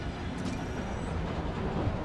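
A subway train rumbling past in the Spider-Man: Miles Morales video game, a steady low roar with faint high squeals, constant in level and with no pauses.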